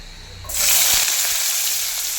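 Diced potatoes hitting hot oil, bursting into a loud, sudden sizzle that then holds as a steady close-up frying hiss.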